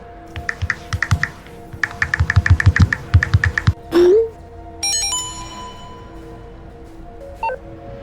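In the video game GTA Online, a ringtone-like phone tone chimes through a short rising melodic sequence after a burst of rapid keyboard-like tapping, followed by a brief electronic blip, clear and close.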